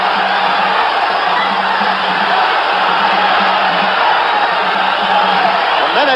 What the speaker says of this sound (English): The crowd picks up